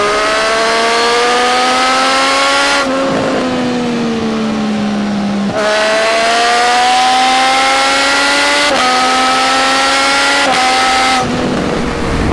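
A Triumph Street Triple 765 RS motorcycle accelerates hard through several quickshifted gears, its loud, close engine climbing steadily in pitch and dropping sharply at each shift.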